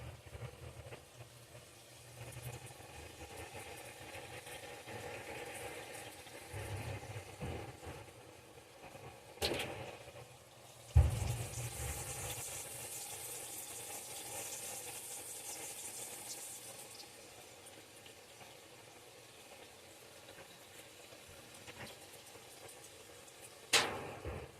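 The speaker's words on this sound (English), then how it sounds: "Filling the washer up." Washing machine filling with water, a soft steady rush and low hum with occasional louder clunks and splashes, quiet and continuous throughout.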